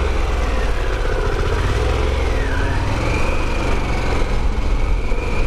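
A Harley-Davidson Pan America motorcycle engine hums steadily at about 4,000 rpm, loud and close, with a brief rise and dip in pitch partway through and no talking.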